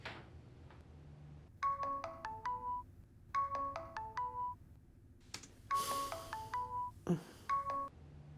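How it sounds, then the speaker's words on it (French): A phone rings while a call is placed, giving a repeated electronic melodic ring pattern in several bursts, fairly clear over a quiet background with a brief thump near the end. "Attends, j'appelle Nas pour lui proposer."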